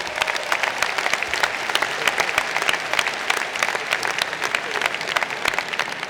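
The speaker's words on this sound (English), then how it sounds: "Let's have a round of applause for them." Commencement audience applause filling a hall, dense sustained clapping from a large crowd, loud and even throughout with a faint crowd murmur beneath.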